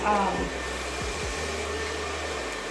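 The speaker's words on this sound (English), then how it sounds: "what's nice about the Vision blow dryer is that it has," A Vision blow dryer runs as a steady, even whoosh of airflow while drying hair, with some brief lower thumps from handling near the start.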